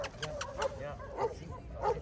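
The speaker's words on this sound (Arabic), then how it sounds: "متابعينا عشاق الكلاب عندنا هذه الكلبه واسمها بيلا" Bella, a dog at a dog market in Sidi Bel Abbès, Algeria, gives three short yappy barks spaced evenly, mid-distance, over faint background voices.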